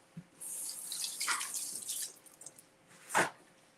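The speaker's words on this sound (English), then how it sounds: "rinse off some blackberries" Tap water splashes as blackberries are rinsed in a kitchen sink, a steady running stream that fades, then a short louder gush near the end.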